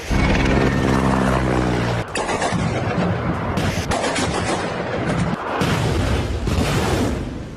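Loud, close explosions and heavy artillery fire from the war in Ukraine boom in quick succession, with sharp blasts and rumbling reverberation filling the whole stretch.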